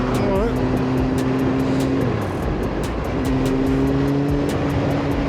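Motorcycle riding on the M5 motorway near Birmingham, a steady engine drone and loud wind rush running throughout, with engine tones rising and shifting in pitch as it cruises.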